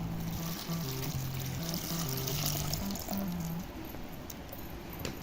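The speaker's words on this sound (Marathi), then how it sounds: "आता ह्यामध्ये पाणी टाकायचं" Water is poured steadily over finely chopped banana flower in a container with a gentle splashing rush, while a faint melody plays in the background for the first few seconds.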